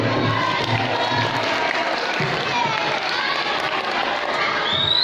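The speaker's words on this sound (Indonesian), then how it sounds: "Beri tepuk tangan ayo" School scout drama audience cheering, shouting and applauding together in a dense, loud, continuous roar of children's voices and clapping that holds steady throughout.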